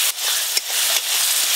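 Chopped tomatoes going into onions frying in a pan for a home-style fish curry, a loud steady sizzle with a couple of brief stirring knocks.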